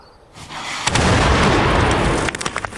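A German tank cannon fires in a World War II battle, a single heavy boom that swells into a long rolling roar with a few sharper cracks near the end, loud and close with no talk.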